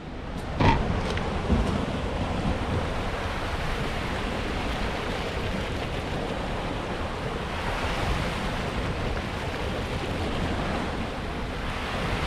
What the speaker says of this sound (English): Let me show you the waves